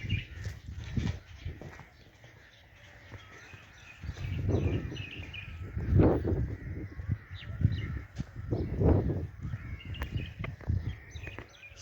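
Several birds call and caw outdoors at dawn before sunrise, harsh crow-like calls recurring every couple of seconds over a low rumbling background, moderately near and growing more frequent toward the end.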